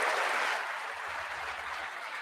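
An audience applauding during a State of the Union speech, a brief wash of many hands clapping at moderate distance, fairly loud at first and settling slightly before fading.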